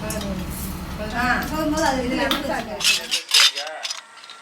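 Metal ladles and cutlery are handled and set down in a home kitchen, with clinks and clatter toward the end following a stretch where a person talks.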